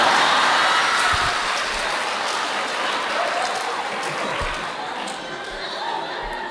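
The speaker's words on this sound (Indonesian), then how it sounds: "Tepuk tangan mari." An audience at a talk show claps steadily throughout, a dense wash of applause with faint chatter and a few chuckles mixed in.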